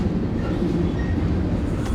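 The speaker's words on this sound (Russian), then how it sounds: "Этот поезд едет уже больше 24 часов." A train rolls steadily through the Mexican desert, heard from onboard as a loud, dense, continuous rumble with faint rattling and no talking.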